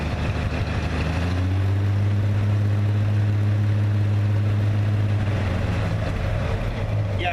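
A 1955 GMC 3/4-ton Napco 4x4 truck engine idling cold: a loud, steady low rumble with a strong droning hum that holds even, then fades slightly toward the end.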